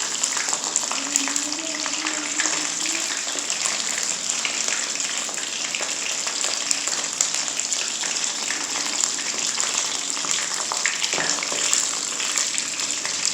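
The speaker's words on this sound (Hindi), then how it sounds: "3 से 4 मिनट के लिए एक साइड से फ्राई करेंगे।" Bread slices for shahi tukda frying in hot oil, a steady dense sizzle with fine crackling pops throughout, close and even.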